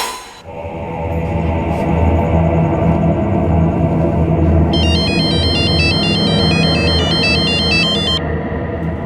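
A phone ringtone plays a bright melodic tone sequence over a dense, loud background hum, entering midway and stopping before the end, with no speech.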